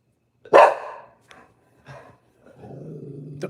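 A pet dog gives one sharp, loud bark, then a few fainter short yips, followed by a low rumbling growl, all close by in an otherwise quiet room.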